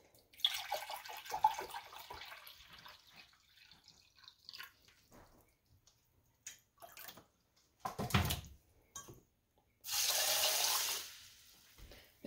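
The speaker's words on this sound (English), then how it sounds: "now you're going to need 4 cups of water to put in here" Water from a tap runs and splashes into a pot, measured out for elderberry syrup: a few brief pours and drips, then a louder sustained gush near the end, with quiet handling sounds between.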